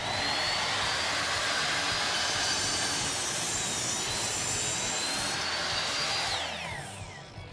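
A chop saw cuts through an old, brittle barnwood porch post, giving a loud, steady, close whine that runs unbroken and eases off near the end.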